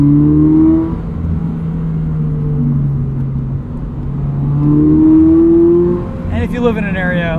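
Modified automatic Toyota GR86 pulling hard on a canyon road, engine tone climbing, dropping at quick gear changes, then rising again, loud and close from inside the cabin with a voice briefly talking at the end.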